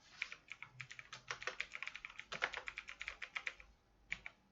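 Rapid bursts of keystrokes on a computer keyboard while entering text into WordPad, crisp and close, with an uneven rhythm, a short pause near the end and one final tap.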